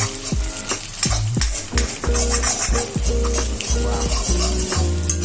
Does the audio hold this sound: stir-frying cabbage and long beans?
yes